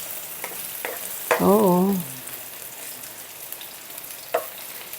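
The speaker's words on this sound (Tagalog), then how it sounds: "pwede natin dito na igisa yung ating bawang" Garlic sizzles and fries in a pan alongside half-cooked eggplant, a steady crackling hiss with occasional clinks of stirring, while someone briefly speaks over it.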